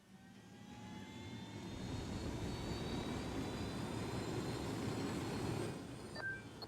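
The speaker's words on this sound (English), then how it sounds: "I spent a while trying to find a good place to land the helicopter," Helicopter flying in the video game Ghost Recon Wildlands, a steady rotor and engine rumble that swells and holds, then briefly fades near the end, with no voices.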